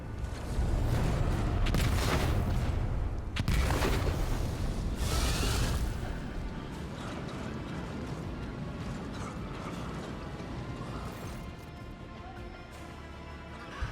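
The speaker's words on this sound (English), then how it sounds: "Explosions." Explosions erupt in the game Warhammer 40,000: Rogue Trader, with heavy booms and crackling blasts up front, then a long rumbling mechanical roar that fades.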